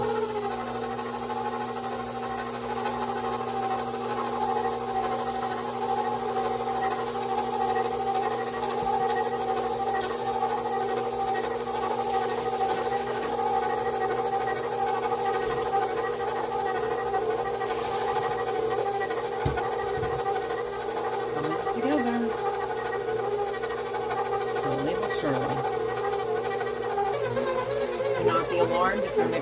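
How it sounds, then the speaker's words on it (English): Stand mixer kneading cinnamon roll dough in a home kitchen, giving a steady droning motor hum with a faint rhythmic knocking throughout, close and continuous without talk. "Alarmed if your mixer sounds like this."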